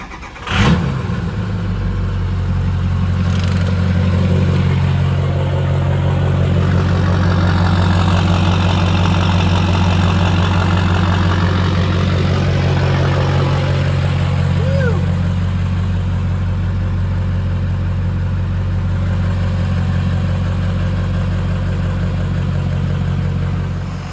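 A Ford 6.0 Powerstroke diesel engine cranks briefly and fires, then settles into a steady, loud, close idle with a deep rumbling throb that holds for about twenty seconds.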